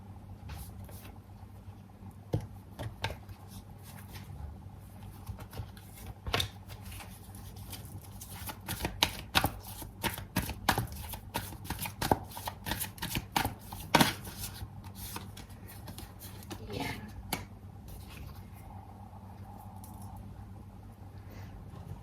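Tarot cards shuffled and drawn, with soft papery riffles and sharp slaps and flicks of cards dealt onto a surface, clustering into bursts of rapid taps, close and fairly quiet, with no talk.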